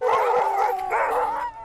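Nunavik sled dogs howling outdoors: a loud, sustained chorus of several overlapping wavering howls that swell twice and then trail off.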